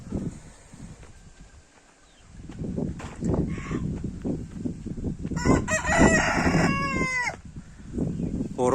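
A rooster crows once, loud and fairly close, over a rustling outdoor background with faint voices.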